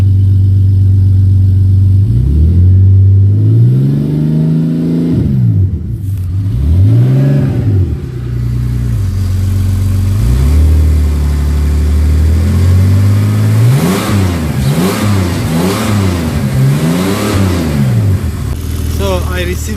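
A turbocharged M54 engine in a BMW E39 revs repeatedly, climbing and falling in pitch through several blips with a steady drone between, loud and close, with a few spoken words mixed in.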